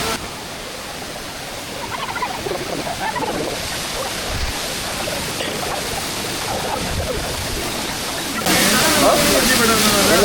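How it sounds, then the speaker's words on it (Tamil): Courtallam waterfall in Tamil Nadu gives a continuous broadband rushing roar from some distance, growing louder toward the end, with voices of people nearby mixed in. "First water falls of the trip."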